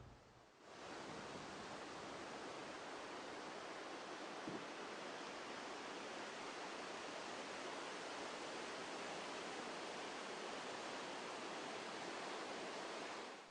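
Whitewater river rapids rush in a steady, loud, continuous roar from a wildwater canoe racing course, the broad churning wash unbroken from start to finish with no voices.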